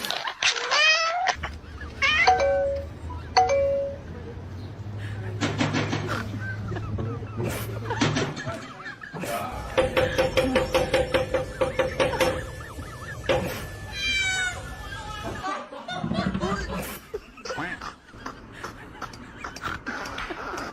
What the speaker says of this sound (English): But I got more cats for you to ease the pain here.